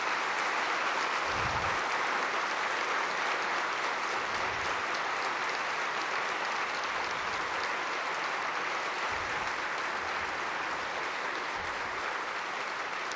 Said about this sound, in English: how about a nice round of applause for all those in the armed services?